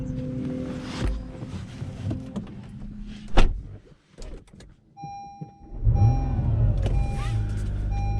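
Someone gets into an Acura NSX at Gingerman Raceway: a loud door thump, rustling and small clicks, then electric chimes and a rising whir as systems power on inside the cabin.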